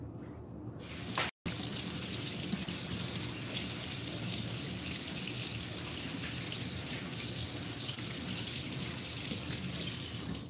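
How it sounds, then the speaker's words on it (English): A cucumber is rinsed under a running kitchen tap, giving a steady, close splash and gush of water that briefly cuts out near the start and then runs on without talk. "I am going to wash cucumber."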